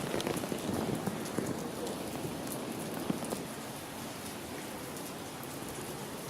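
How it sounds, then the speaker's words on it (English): Steady rain patters and hisses on surfaces, a dense wash of drops with occasional louder taps, fairly quiet and continuous. "And the rain is getting heavier and heavier."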